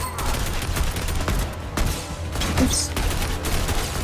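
Rapid bursts of gunfire from a weapon in the Fortnite video game, several shots fired in quick succession, loud and close, with a brief spoken exclamation.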